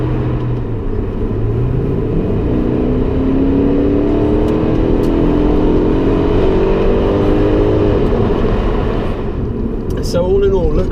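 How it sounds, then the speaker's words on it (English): A Porsche 928 S4 V8 engine drones loud and steady close by, its pitch sweeping up and down through revs, with a brief sharper burst near the end. "Engine sound-wise, what do you reckon?"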